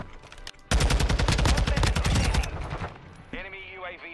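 Automatic rifle fire in the video game Call of Duty: Modern Warfare II, heard as a dense, loud, rapid burst lasting about two seconds. It is followed by quieter game effects and a brief voice-like tone.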